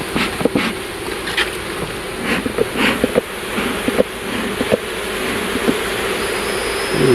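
Honeybees buzzing around an open hive during an end-of-May inspection in Saskatchewan, a continuous close drone with scattered louder passes and light knocks from the hive.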